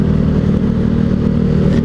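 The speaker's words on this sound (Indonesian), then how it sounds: "suara knalpot gue kayak motor standar, cuman rada ngebas sedikit aja" A motorcycle exhaust that sounds close to a stock bike, only slightly bassy, idles up close in a loud, steady, low throbbing rumble with a faint mechanical clatter. No one talks.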